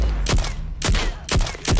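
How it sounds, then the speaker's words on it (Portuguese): Gunfire in the Super People battle royale game: four sharp, loud shots spaced roughly half a second apart, each cracking out on its own with no talking. "O mesmo barulho de tiro, vamos pra treta"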